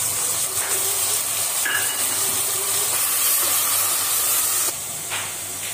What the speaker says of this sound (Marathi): आता आपण कांद्याची पेस्ट टाकूया.